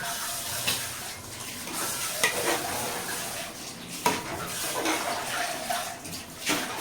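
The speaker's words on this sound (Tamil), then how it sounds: "இப்போ அப்படியே போட்டு ஒரு கிண்டுறோங்க" Meat and masala being stirred in a pot while cooking a bachelor-style biryani, soft scraping and wet sizzling turns with occasional sharper clinks of the spoon against metal, steady and fairly quiet.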